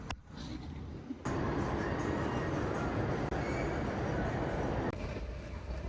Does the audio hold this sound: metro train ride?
yes